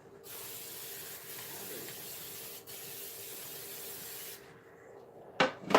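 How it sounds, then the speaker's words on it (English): Cooking spray sprayed onto a muffin pan in a long continuous hiss lasting several seconds, then it cuts off and is followed by a brief clatter near the end. "A nice generous portion of spray."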